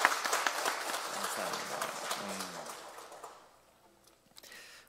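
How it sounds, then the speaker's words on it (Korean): Congregation applause in a church service, a burst of clapping from the gathered members that fades out after about three seconds, followed by faint talk. "자, 우리 응원하는 의미로 박수 한번 할까요?"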